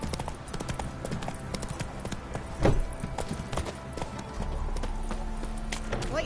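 Roach the horse trots in a video game, steady clip-clop hoofbeats with a brief heavier thud partway through, continuous and fairly close.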